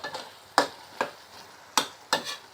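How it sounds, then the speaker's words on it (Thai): Eel stir-fried in a pan with thick curry paste for a spicy Thai dish: four or five sharp scraping strokes of a spatula at a steady, uneven pace, close and fairly loud, each over a faint sizzle. "ผัดปลาไหลนี่ต้องถึงเครื่องนะครับพี่น้อง"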